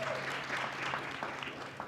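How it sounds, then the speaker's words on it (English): Brief, fairly faint applause from a graduation celebration audience, a short wash of steady clapping that continues evenly throughout. "Let's give him another round of applause."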